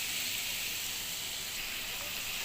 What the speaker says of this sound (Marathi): ती ऑनियनां मातशी फ्राय कोत्ता